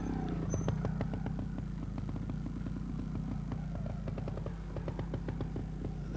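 A 1986 trials motorcycle putters and blips its engine at low revs while picking its way over obstacles, with clatters and a steady rumbling drone throughout and no talking.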